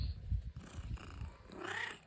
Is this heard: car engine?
no